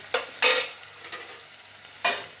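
Tomato pieces frying in a pan for tomato chutney are stirred in three short, close scraping strokes, with a faint sizzle between them and no voices.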